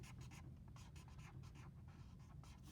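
A crayon or colored pencil scratches steadily across paper while a drawing is colored in, a soft continuous rubbing with quick back-and-forth strokes, close and quiet.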